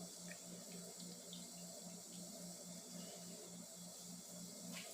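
Reserved flavoured water poured into homemade panettone dough, a steady continuous trickle and splash of liquid heard close up throughout, with no talking.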